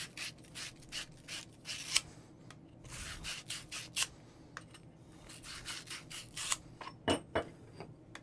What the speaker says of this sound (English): You can put that on the end of a drill and then really clean up your fittings really nicely